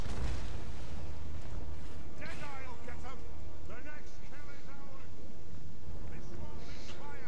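Goblobber artillery firing in a Total War Warhammer battle against dwarfs, a heavy boom early, then rumbling battle noise beneath continuous talking.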